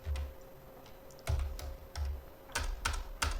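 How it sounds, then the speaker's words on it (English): Computer keyboard typing while coding a Java solution, short bursts of sharp key clicks in an uneven rhythm, close and clear with no voices. "oh my god, this is a lot of typing"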